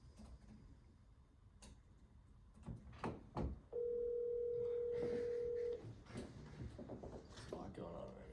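A steady telephone dial tone sounds for about two seconds in a committee meeting room. Ticks and handling clicks come before it, and faint voices and room noise come after.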